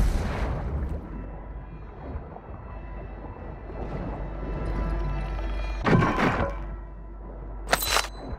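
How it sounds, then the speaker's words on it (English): Mortar shells strike during a video game battle, sending deep rumbling booms and two sharp, crackling blasts through a continuous low roar of combat ambience. "Mortar strike inbound now."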